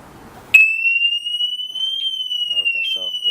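An Empulse TT Urban UR6 disc lock alarm cuts in abruptly with a loud, piercing, sustained electronic tone that holds steady for several seconds, with faint voice sounds briefly under it.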